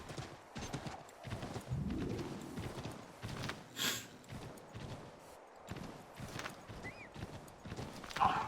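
Horse hooves clip-clop in the Assassin's Creed 3 video game, irregular close steps with snorts and outdoor wilderness ambience, loud and clear throughout.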